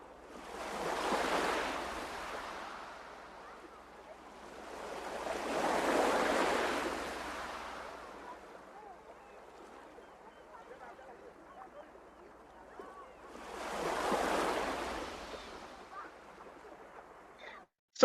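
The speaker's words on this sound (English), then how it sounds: "this is the little soundscape, sound of the sea, that you listen to when you're dining on this" Sea-wave soundscape played alongside a dish: three slow swells of surf wash in and recede, with quiet gaps between, soft and distant.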